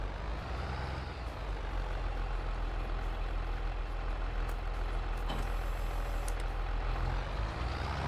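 A large truck hauling a big trailer in Farming Simulator rumbles steadily at idle, with a brief hiss and faint high reversing beeps partway through; no one speaks.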